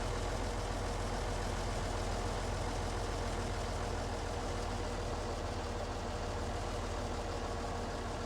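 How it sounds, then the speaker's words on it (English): Tractor-drawn mower running in a sorghum field, a steady droning engine hum with constant loudness and no breaks, heard moderately close with no voices over it. "And this mower seems to be doing pretty well for us."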